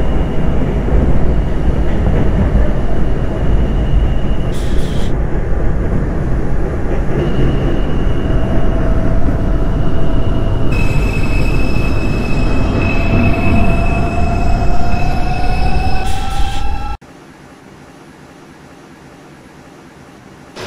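An R142 subway car on a Bronx-bound 4 express run in a train simulator, with a loud steady rumble of wheels on track, high squealing tones and rising motor whine, then an abrupt cut to a quiet cab hum near the end.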